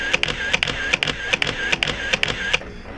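A Canon EOS-1 V film camera firing repeatedly: a rapid series of about a dozen crisp mechanical shutter clicks with brief whirring film advance between them, close and distinct, with no talking.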